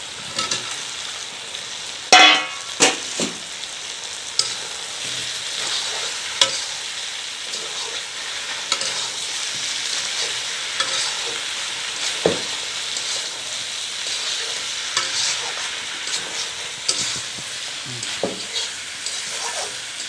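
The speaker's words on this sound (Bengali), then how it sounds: "এখন টমেটো দিলাম। তারপরে ভেজে রাখা আলুগুলো দিয়ে দেবো।" Tomatoes and potatoes fry in a pan for a chicken curry, giving a steady close sizzle for about twenty seconds, broken by occasional scraping and stirring clinks.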